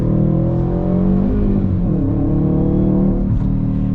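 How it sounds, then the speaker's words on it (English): A Subaru WRX STI flat-four engine revs steadily with harmonic drone, pitch dipping and rising as it blips through a rev-matched downshift, close and loud throughout. "I definitely love the sound of the flat 4 a lot more compared to the sound of the inline 4."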